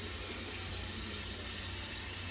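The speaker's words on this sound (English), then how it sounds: "Now fill it with water, preferably probably warm so it doesn't take long." Warm tap water fills a cooking pan for noodles, a steady, even rushing stream close by with no change throughout and no talking.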